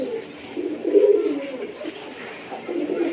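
Colored Giribaz pigeons in a breeding case coo softly in low, rolling bursts, several overlapping phrases rising and falling close by with no talking.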